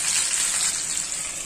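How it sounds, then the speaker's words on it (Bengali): Marinated chicken frying in oil, a steady soft sizzle with bright crackle, close and continuous without a break. "এখন আমি মেরিনেট করা চিকেনটাকে এখন আমি তেলের মধ্যে ছেড়ে দিচ্ছি"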